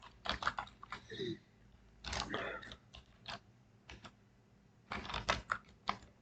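Bursts of typing on a computer keyboard, entering a printf line for an if-statement program in C: quick clusters of close, crisp key clicks separated by short pauses, with no talk.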